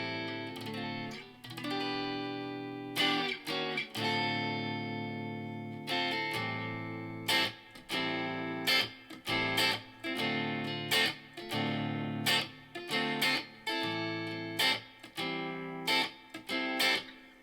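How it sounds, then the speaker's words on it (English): Fender Vintera 60s Stratocaster electric guitar played through a Mustang GTX100 amp on a 65 Deluxe Reverb setting, ringing chords and picked notes with reverb tails, clear and close, with no talking. "I am playing through my Mustang GTX100 on the 65 Deluxe reverb"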